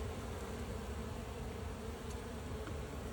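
A honeybee swarm gathers at a hive entrance, bees fanning their wings to spread the queen's pheromone, making a dense, steady buzzing hum that stays faint and continuous, with no voices.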